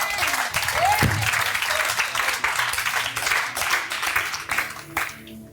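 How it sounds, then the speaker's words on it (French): Church congregation applauding and cheering together in a steady, dense wash of clapping that fills the room, with scattered voices mixed in throughout. "Acclame ça."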